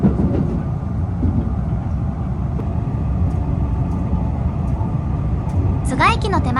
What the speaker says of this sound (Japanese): 特急成田エクスプレスは成田空港を目指します